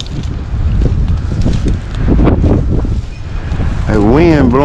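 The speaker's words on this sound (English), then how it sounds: "That wind blowing too." Wind gusts blow steadily across an outdoor microphone during a rabbit hunt after a storm, a loud continuous rush with people talking and a voice calling out near the end.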